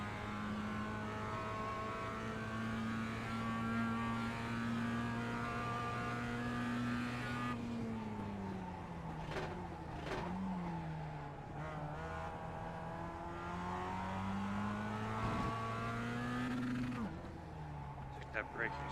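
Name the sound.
race car driving and braking in a racing video game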